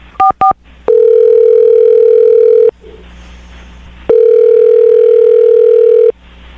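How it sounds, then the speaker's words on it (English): Telephone dialing: two short DTMF key beeps, then a loud steady dial-type tone for about two seconds, a pause, and another long steady tone, with no talking. "dial the phone number right now, get her on the phone"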